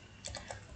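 A few quick keystrokes on a computer keyboard while typing a line of Java code, faint and close against a low steady hum, with no talking.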